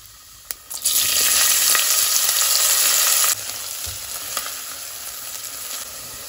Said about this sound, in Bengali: এইসব ফোড়নগুলোকে আমি একটু ভালো করে নাড়াচাড়া করে নেব, তার মধ্যে অ্যাড করে দেবো কুচিয়ে রাখা পেঁয়াজটা।